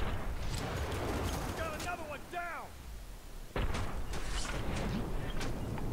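Sniper rifle shots in the F.E.A.R. 3 video game: a few sharp, separated cracks among game effects, one heavy blast hitting midway, while someone talks over the action.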